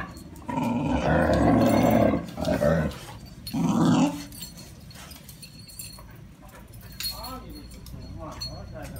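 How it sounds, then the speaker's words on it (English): A Thai Ridgeback dog growls loudly in close, rough bursts, followed by quieter grumbles and scattered clinking while a person talks nearby. "Oh, growling and barking."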